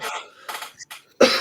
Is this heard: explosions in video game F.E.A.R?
no